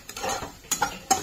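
A utensil stirring chitol fish curry in a pan, with a soft scraping stir followed by two sharp metallic clinks against the pan, close up and alone.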